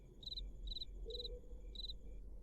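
A single cricket chirps in regular pulsed bursts, about four evenly spaced trills over a low steady hum, fairly faint and with no voices.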